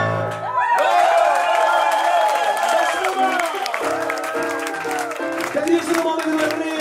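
Audience applause and cheering at a live rock and roll concert in Mahogany Hall, Bern, steady clapping from a crowd mixed with lingering music tones and some voices.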